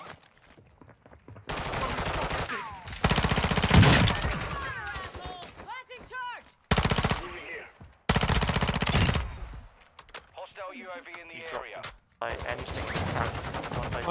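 Video game gunfire rattles in several loud automatic bursts separated by gaps, with voices talking in between the volleys.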